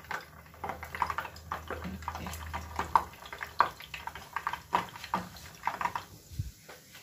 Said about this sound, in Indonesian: Kita goreng selanjutnya.